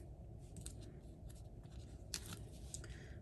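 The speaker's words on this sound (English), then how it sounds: "Get our scissors and give this a little trim so you can't see that from the back" Scissors snip through paper while trimming a stamped card piece, a few crisp cuts standing out over a steady low room hum.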